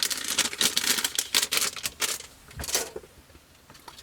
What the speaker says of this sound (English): I'll just pop that back in the plastic bag for its own protection.